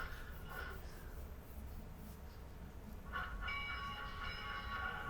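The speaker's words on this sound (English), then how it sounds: "Well, that sounds like an actual train." Train in the WW2 strategy game Strategic Command WW2, a low rumbling rolling sound with a faint tonal whistle or horn rising near the end, moderately quiet and steady.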